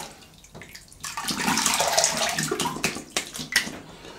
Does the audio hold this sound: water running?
yes